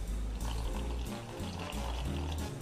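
Water splashing and trickling into a bowl of chickpea flour batter being mixed, a continuous wet pouring sound with small clinks, close and fairly loud, with no voices.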